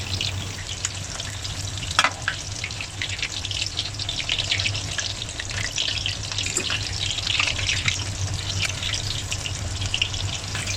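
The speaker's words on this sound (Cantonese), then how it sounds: "魚腩炸熟咗之後呢，會輕身啲嘅" Fish belly pieces and garlic cloves deep-fry in hot oil for a ginger and scallion fish dish, making a continuous close bubbling sizzle with an occasional faint clink of a utensil.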